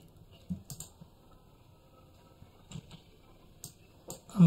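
Sparse, quiet clicks of a computer keyboard as a Gmail address is typed, a few short bursts of keystrokes separated by pauses, close and faint, with no voice.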